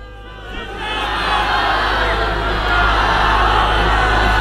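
A large crowd at a religious scholars' convention in Balochistan shouts slogans together, a loud, dense roar of massed voices that swells after a quieter start and stays sustained to the end.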